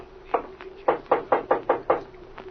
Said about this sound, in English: I'll knock on Mrs. Croft's door